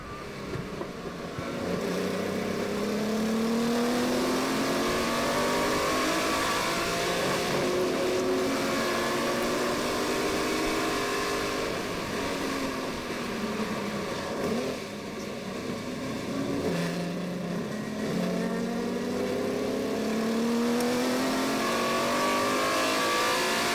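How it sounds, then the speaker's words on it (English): A field of Ford Capri RS2600 race cars at Daytona roars through and out of turn one, with loud, continuous engine noise and rising and falling pitch sweeps as the cars pass close by one after another. "the field of 13 cars for Group B make their way through and out of turn 1."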